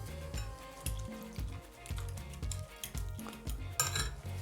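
A utensil stirs chopped green onion into a pizza-tortilla filling in a bowl, giving repeated close scraping and clinking strokes at a brisk, uneven rhythm, with no talking.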